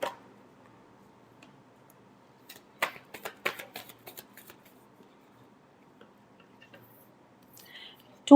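Tarot cards being shuffled in a short burst of quick papery riffles and taps near the middle, otherwise quiet, with a faint rustle near the end.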